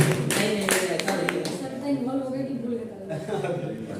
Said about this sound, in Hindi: भाई तालियां बजा दीजिए।